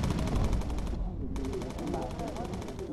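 A bomber's machine gun firing incendiary rounds in the aerial combat game Bomber Crew, a loud, continuous rapid stream of shots that pauses briefly and resumes, with a voice talking beneath.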